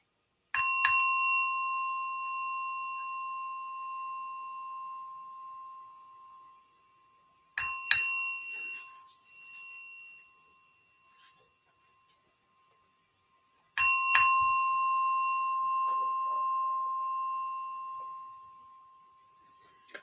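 A meditation bell is struck three times to open a morning guided meditation at a Sunday celebration. Each clear, resonant ring sustains and slowly fades over several seconds, with no talking in between.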